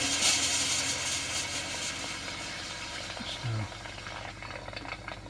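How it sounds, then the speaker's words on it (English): The water tap of a Swift Kon-Tiki 784 motorhome spits and splutters as air purges from the lines, giving irregular gurgling, rattling bursts of water with a low mechanical hum beneath. "a bit of spitting and spluttering here for"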